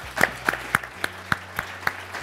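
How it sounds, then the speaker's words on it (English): Scattered applause from a conference audience at Fortune Brainstorm Green 2013, a handful of distinct claps in a loose, thinning rhythm over about two seconds, moderately close and fairly quiet. "applause for Steve"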